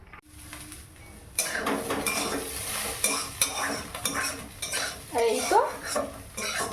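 Vegetables frying in a pan are stirred with a metal utensil, giving repeated scraping and clinking against the pan over a soft sizzle. The stirring starts after a brief quieter moment and continues steadily, close and fairly loud.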